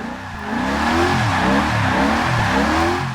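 Supercharged Shelby GT350R drifting through a corner in Forza 6, its engine droning loud and steady with rising and falling revs and tyre squeal woven through, no talking over it.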